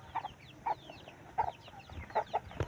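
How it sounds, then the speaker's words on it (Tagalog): Farm chickens cluck in short, rhythmic bursts, fairly faint and a little distant, with light chirps in between and no talking. "Ito mo na ang manok."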